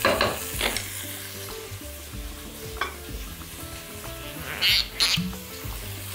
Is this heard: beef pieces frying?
yes